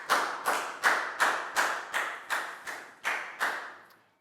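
Year 4 class in a maths lesson claps together in a slow, even rhythm, about ten crisp unison claps at regular intervals, each ringing briefly in the room.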